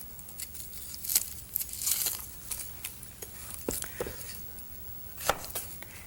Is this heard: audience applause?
no